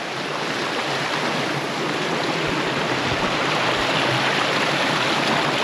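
Steady, full rushing of cold stream water at a primitive campsite on the Appalachian Trail, continuous and close throughout, with no voices over it.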